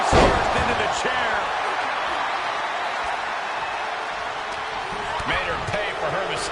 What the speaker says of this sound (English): Face first into the chair.